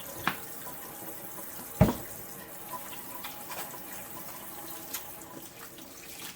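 A tap runs into a sink while hands are rinsed of fresh homemade soap, giving a soft, steady splashing wash with a couple of sharper clunks, fairly quiet and with no talking.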